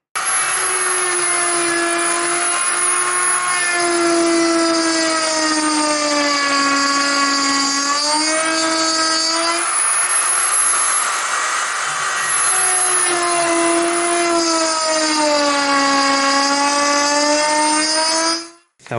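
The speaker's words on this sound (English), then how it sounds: "the jig uses a router, and you cut the spline at 45 degrees" A router cutting 45-degree spline slots in timber held in a jig: a loud, close, high-pitched motor whine with shifting pitch as the bit bites into the wood, running steadily and then stopping at the end.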